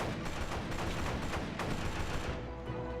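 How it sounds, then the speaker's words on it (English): Rapid gunfire from a video game crackles in dense, distorted bursts, loud and continuous for a few seconds with no talking. "Some of the gunshots in this game are a little bit weak."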